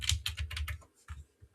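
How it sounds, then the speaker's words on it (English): Computer keyboard arrow keys clatter in a quick burst of about six keystrokes, then a pause and two more separate taps, close and fairly crisp with no talk. "I use the arrow keys as well."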